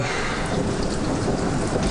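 Steady heavy rain with a low rumble of thunder rolling underneath, dense and continuous throughout.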